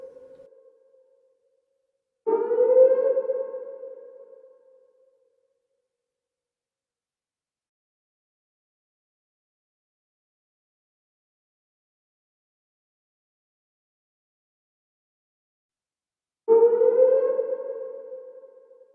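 Two separate bursts of a police car siren reworked with compressor, reverb, phaser and chorus effects into a Star Wars speeder bike sound, each a loud rising whoosh that fades away, with long silence between them.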